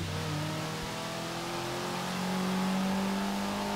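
Car engine in a video game, a loud, continuous engine whine in sixth gear with smoothly sliding pitch, heard alone.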